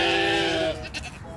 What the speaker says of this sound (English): Even though he's not a goat, he's a ram.